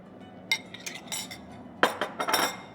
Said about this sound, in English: And then we're stirring.